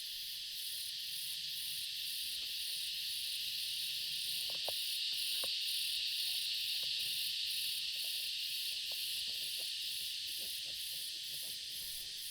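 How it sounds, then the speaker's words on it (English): A steady, high-pitched insect drone of cicadas in a temperate rainforest buzzes continuously, with faint scattered clicks and rustles beneath it. "Those cicadas are doing my head in."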